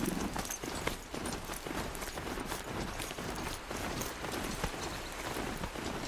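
Horse hooves clip-clop steadily while riding across open terrain in Horizon Zero Dawn on PS4, a continuous rapid galloping rhythm at moderate level with no talk over it.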